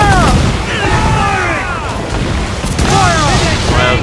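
Ship cannons fire in an Assassin's Creed 4 Black Flag naval battle, with loud booming blasts under sweeping whistling game sounds and a voice speaking over the action.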